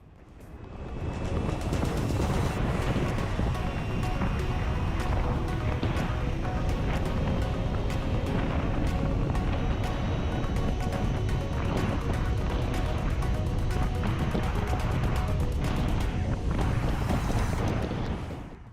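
An Ather 450X electric scooter runs at top speed in Warp mode. Steady, loud rushing wind roar fills the whole stretch with no talk over it.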